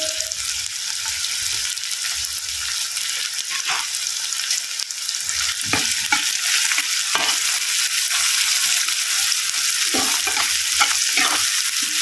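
Onions with salt fry in a hot pan for a dry prawn and tomato curry, giving a steady loud sizzle throughout with occasional stirring scrapes and no voices.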